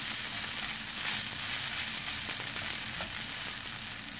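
Noodles are stir-fried in a pan for Thai rad na, giving a loud, continuous close-up sizzle and crackle of hot oil with faint scraping of stirring, and no talk.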